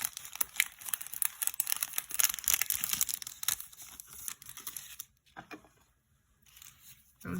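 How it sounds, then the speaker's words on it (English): A Scrapdiva Love Struck ephemera package is unwrapped up close with dense crinkling, rustling and tearing of plastic wrap. The noise eases into quieter intermittent rustles and then near silence. "Then we're going to show you to unwrap Ephemera Package 2."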